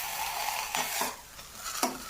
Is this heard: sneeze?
no